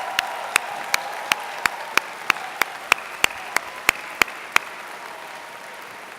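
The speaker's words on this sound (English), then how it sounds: "Let's give them a big applause and welcome the University of Waterloo family." A convocation audience's applause is dominated by one near, sharp clapper striking about three times per second over a soft crowd bed, the claps stopping partway through.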